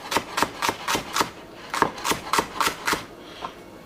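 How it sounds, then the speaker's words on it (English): A knife chops celery stalks on a cutting board for lentil soup, a quick run of crisp, evenly spaced thuds, a short pause, then another steady series tapering off, close and clear with no talk. "I'm going to take the celery and let me go this way, and we're just going to chop that up"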